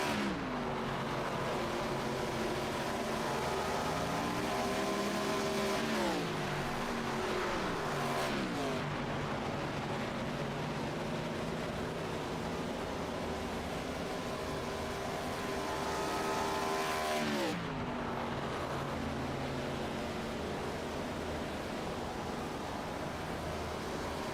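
Stock cars in a sim racing game at Kansas Speedway pour into pit lane, a dense, loud drone of engines whose pitch swoops down and rises again as several cars pass close, continuous throughout.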